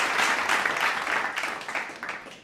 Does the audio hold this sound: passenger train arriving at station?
no